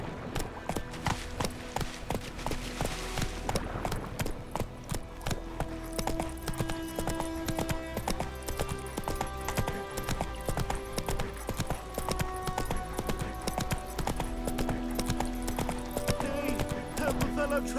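Hooves clip-clop in a steady galloping rhythm as a horse runs in The Witcher 3: Wild Hunt, close and continuous over a soft background hum.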